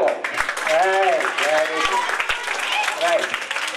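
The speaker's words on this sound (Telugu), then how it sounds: "కొట్టండి చప్పట్లు" An audience at a school science-temper event organised by Jana Vignana Vedika claps in a steady wash of applause, with a voice speaking loudly over it throughout.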